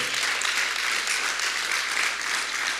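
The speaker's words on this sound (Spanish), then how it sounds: "Dele un aplauso al Señor." A crowd applauds steadily and loudly, a dense wash of clapping hands that holds an even level throughout with no talk over it.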